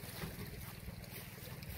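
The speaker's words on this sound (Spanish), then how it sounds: "Aquí ve, está corriendo agua" Muddy river water rushes past a rural riverbank, a steady broadband wash with some wind noise and no voices.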